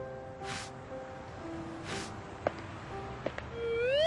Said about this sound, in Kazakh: Сыпырғының дауысы естіледі. Анау ағай көшені сыпырып жүр екен.